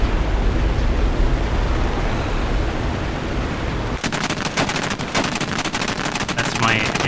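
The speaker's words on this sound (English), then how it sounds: "That's my AI gunners opening fire" In War Thunder, automated gunners on a vehicle with a belly-mounted remote weapon turret open fire. A steady roar of engine noise gives way to a rapid, loud stream of machine-gun bursts.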